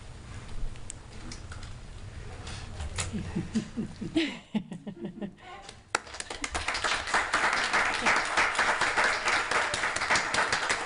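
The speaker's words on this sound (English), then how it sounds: "when she walks in, everyone clap" An audience at a city commission meeting bursts into clapping as a woman walks in, a dense spread of hand claps building from about the six-second mark and holding loud to the end after quieter murmuring and tapping.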